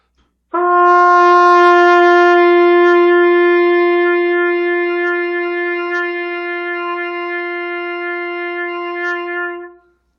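One sustained open G on trumpet, clear and brassy, held evenly for roughly nine seconds with no accompaniment before cutting off.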